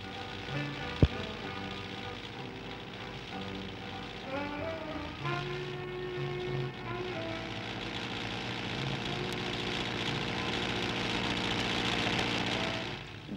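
A 1968 Köla Coronet combine harvester drives at speed, its engine a steady droning hum with shifting harmonic tones that build slightly louder, set under background music.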